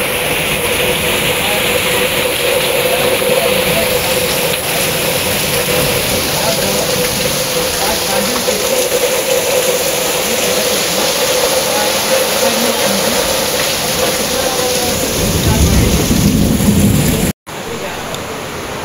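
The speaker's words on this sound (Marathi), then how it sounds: "पाऊस जाम पडतो, लाईट गेले." Heavy rain pours steadily through a storm in a Konkan village, a dense broadband roar with wind mixed in, a deeper rumble swelling near the end before a brief cutout and return.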